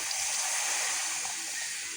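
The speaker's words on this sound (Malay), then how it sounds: "Lepas tu masukkan air." Water pours into a pot of curry at an outdoor campsite, a steady close hiss and splash lasting the whole moment without a break.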